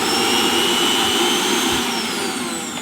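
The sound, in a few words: Bajaj mixer grinder running after motor bush replacement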